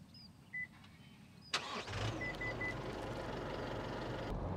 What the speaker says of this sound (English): And before I forget, it also has remote start.